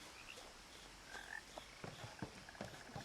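A frog croaks faintly in the What Remains of Edith Finch video game, several short croaks against a quiet ambient background with no talking.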